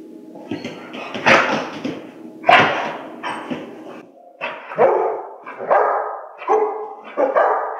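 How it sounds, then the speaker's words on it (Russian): A German shepherd police dog barks repeatedly in sharp, loud bursts, about eight barks with short gaps, close to the listener and with no voices. "Ее первая в жизни собака – немецкая овчарка Астин"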